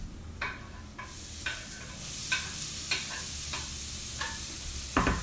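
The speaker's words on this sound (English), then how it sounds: "All right, put the tomatoes in." Two plum tomatoes sizzle with eggplant in a pan, a constant close crackle punctuated by about nine regular scraping strokes of a spoon, no voices.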